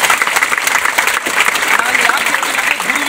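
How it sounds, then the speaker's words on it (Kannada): A crowd at a school event in Nipani gives the teachers loud applause, dense continuous clapping that fills the space close by, with voices mixed in underneath. "ಅವ್ರಿಗೆಲ್ಲ ಒಂದು ಜೋರಾದ ಚಪ್ಪಾಳೆ ಮುಖಾಂತರ"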